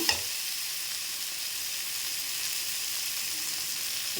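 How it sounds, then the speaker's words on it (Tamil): Tomatoes with salt sauté in a pan over already-softened onions for a bottle gourd and peas gravy, giving a steady, even sizzle close by with no talking. "தக்காளி நல்லா வதங்கும்."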